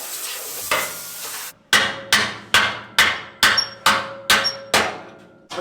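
A claw hammer strikes metal in a fabrication shop where an off-road wrecker is being built, landing about nine sharp, evenly spaced ringing blows close up, each decaying quickly, after a brief stretch of scraping shop noise.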